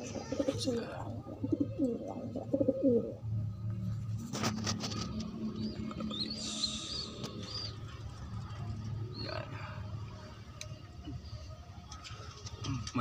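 Young pigeons coo in soft, low, repeated murmurs close by, and someone talks over and between the calls.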